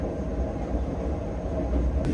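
The Rajkot–Secunderabad–Sainagar Shirdi train rumbles past nearby with a steady, heavy low roar throughout.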